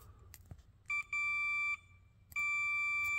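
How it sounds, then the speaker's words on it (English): Fluke 867 multimeter sounding continuity beeps while fuses are tested in a vintage 1977 Midway Laguna Racer arcade cabinet: two steady electronic tones, a short one then a longer one, followed by a sustained beep, clear and close. "Really put this Fluke 867 to work here, testing continuity."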